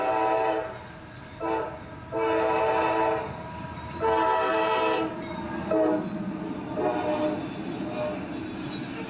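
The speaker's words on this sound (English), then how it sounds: "Train coming down the middle of the street." Train running down the middle of a street in Idaho, passing close with loud rumbling, wheel squeal and repeated horn blasts in several long bursts.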